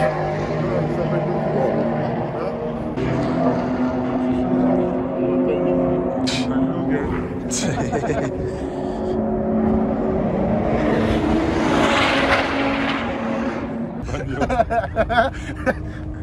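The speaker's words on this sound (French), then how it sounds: "je suis mort quand la carrosserie a vibré." A running car hums steadily with a low rumble while its bodywork buzzes and vibrates, under laughter and chatty voices inside the cabin, with a brief rattle and a swell of noise near the end.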